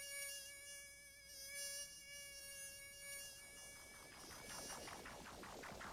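A single mosquito whines with a high, thin, steady buzz close to the ear, its pitch wavering and growing rougher toward the end.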